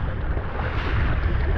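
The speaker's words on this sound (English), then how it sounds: "Just watch out for the big gust today" Strong offshore wind gust roaring across the microphone during a wing foiling session in 45-knot winds, a dense continuous rush of buffeting noise with water wash and no talking.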